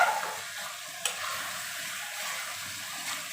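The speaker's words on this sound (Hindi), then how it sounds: "अपना फ्लेम हाई करके और इसकी भुनाई कर दें" Mixed vegetables stir-fry on high flame for a restaurant-style sabzi, producing a steady broad sizzle with a sharp clack of the spatula early on.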